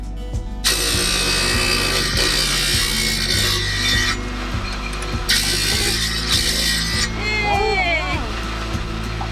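A loud power saw grinds steadily through material, its pitch and texture shifting as it cuts, with a voice speaking under the noise.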